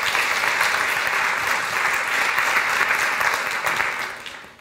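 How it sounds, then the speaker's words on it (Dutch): Warm audience applause fills a television show studio, a dense steady wash of clapping that fades out at the end. "Dames en heren, warm applaus, Herman Wijfels."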